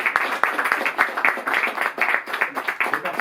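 Audience applause at a book event in Paris, a short burst of dense, rapid clapping from a room of people that holds steady for a few seconds.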